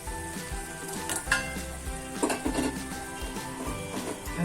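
Atta halwa made from wheat flour being stirred in a pot, with a continuous close sizzle and scattered scraping and clinking from the utensil against the metal.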